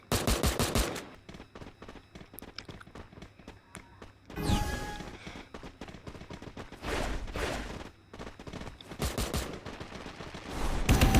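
Loud, sustained automatic weapon fire from the Free Fire battle royale game, long rattling bursts and a crashing impact, close and dense with only short gaps and no talking.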